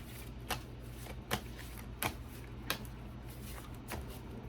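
A deck of tarot cards being shuffled, soft papery riffles and taps recurring in a loose rhythm, quiet and close against a faint hum.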